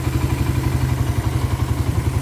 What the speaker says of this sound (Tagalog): Yan, mabait na siya. Ganda na tunog ng makina.